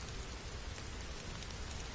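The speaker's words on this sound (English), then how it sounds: "Why is it raining?" Steady rain falls in a video game, a dense continuous hiss of drops at moderate level with no other sounds.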